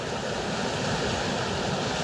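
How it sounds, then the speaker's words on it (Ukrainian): Turbulent spring river swollen to a rushing flow: a steady, dense broadband roar of fast water, close and continuous, with no voices. "Ця річка виглядає так. Це вже не маленький струмок, який був восени."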